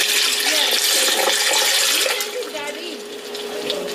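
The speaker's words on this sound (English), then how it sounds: "I'll pour in water." Water pours steadily into a blender jar already holding carrots, orange pieces, ginger and lemon juice, a close continuous splashing fill that softens slightly toward the end.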